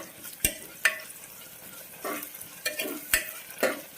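Garlic paste and green chillies fry in a pan, with a quiet sizzle broken by repeated sharp spatula scrapes and stirs at an irregular pace.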